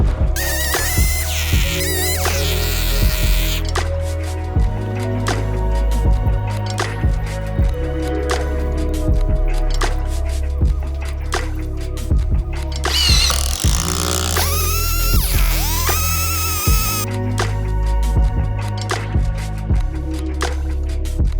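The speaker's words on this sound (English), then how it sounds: "it's my Gramberg Alaskan mill, and it makes slabbing wood with a chainsaw easier and way more accurate" Chainsaw fitted with a Gramberg Alaskan mill slabbing wood outdoors, a loud continuous engine whine with shifting pitch and bursts of revving, sustained throughout.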